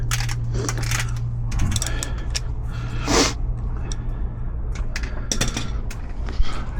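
A screw being driven in while a door lock is fitted on a 1992 Jeep YJ, with close clicking and ratcheting mechanical sounds over a steady low hum and a few sharper knocks.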